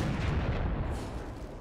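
Napoleonic-era artillery in a battle strategy video game, a continuous rumbling barrage of booming cannon fire dominating the low end, dense and steady throughout with no pauses.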